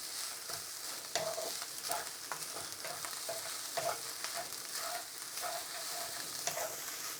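Egg fried rice being stirred and tossed in a hot non-stick wok over high heat on a domestic range, with a steady broad sizzle and repeated scraping strokes of the spatula, close and fairly loud, no talking.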